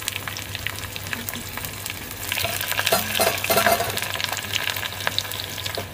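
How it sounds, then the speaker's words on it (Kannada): Onion sizzles in hot oil with popped mustard seeds, curry leaves and chillies for village-style palak massoppu. The steady frying hiss swells as the pan is stirred, with light utensil clinks and no talking. "ಸಾಸಿವೆ ಎಲ್ಲ ಚಟಪಟ ಆಗಿದೆ ಅಂತ ನಾನು ಕರಿಬೇವು ಮತ್ತು ಮೆಣಸಿನಕಾಯಿ ಹಾಕ್ತಾ ಇದ್ದೀನಿ. ಅದಕ್ಕೆ ಈರುಳ್ಳಿ ಕೂಡ ಹಾಕ್ತಾ ಇದ್ದೀನಿ."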